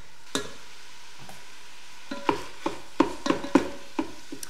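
Sausage frying in a Ninja Foodi gives soft, sparse sizzling, with a few scattered clicks and scrapes of a spatula bunched together near the end. No voices are heard.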